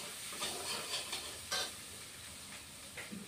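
Garlic sautés in a pan with a soft, steady sizzle and occasional scraping stirs, fairly quiet and close, with no voices.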